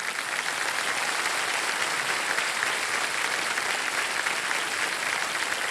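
Studio audience on a TV quiz show breaking into sustained applause, a dense, even wash of clapping from many hands that holds steady throughout, with no one speaking over it.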